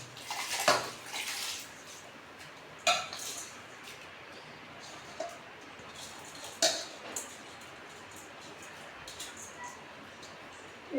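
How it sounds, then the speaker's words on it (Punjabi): Washed rice being tipped into a pot of heated water, with splashes and clinks of the pot and utensils recurring every couple of seconds over a steady watery background. "ਤਿੰਨ ਚਾਰ ਪਾਣੀ ਚੰਗੀ ਤਰ੍ਹਾਂ ਚੌਲਾਂ ਨੂੰ ਧੋ ਲਿਆ ਤੇ ਹੁਣ ਆਪਾਂ ਇਹਨਾਂ ਨੂੰ ਇੱਧਰ ਪਾ ਦਿਆਂਗੇ"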